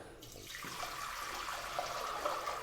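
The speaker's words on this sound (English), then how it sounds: "the first thing we need to do is add water" Water pours steadily into a ceramic vase serving as a Christmas tree base, a continuous hollow rushing splash that holds loud and even from start to finish.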